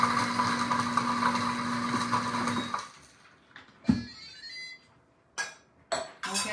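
A blender whirs loudly while blending a strawberry frappuccino with simple syrup, then cuts off abruptly, leaving a few sharp clinks and knocks from the glass jar.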